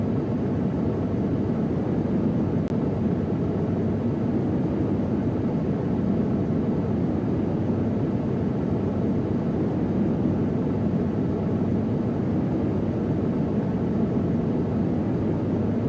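Steady droning airplane engine noise from a flight simulator game, a broad continuous hum holding level for the whole stretch with no voices.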